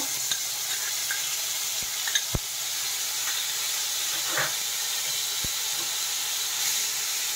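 Spice paste for Bengali green pea ghugni fries in hot oil, a steady sizzle and hiss close by, with a few sharp clicks of a spoon against the pan as it is stirred.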